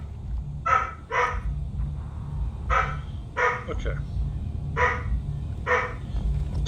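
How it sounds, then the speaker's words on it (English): A dog barks in repeated short bursts, about six to eight sharp barks spread across the stretch, fairly close, over a steady low hum with a voice speaking briefly. "Sorry about the dog."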